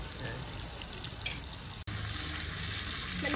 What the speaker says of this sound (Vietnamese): Mình chỉ chiên sơ như thế này thôi mọi người.